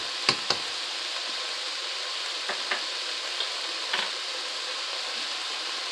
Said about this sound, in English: I'm just going to let this go so that bacon browns up